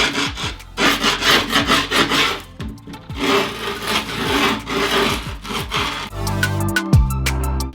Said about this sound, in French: on va venir gratter pour faire apparaître les côtés de la board sur le bord